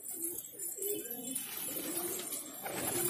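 Repeated soft pigeon coos, low and rounded, over a steady airy background hiss, fairly close.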